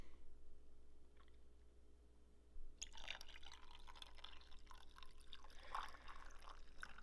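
Cold water poured from a carafe into cold brew coffee concentrate in a glass, a soft continuous splashing trickle that starts partway through after a quiet stretch and fills the rest, close but gentle.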